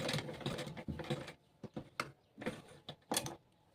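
A sewing machine back-stitching to lock the seam of an A-line kurti with a flat collar: short, close mechanical stitching bursts, several quick runs broken by brief pauses and no talk.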